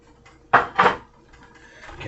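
Sausage being stirred into a pan dish gives two close, distinct clatters of a utensil scraping against cookware, followed by faint quiet handling noise.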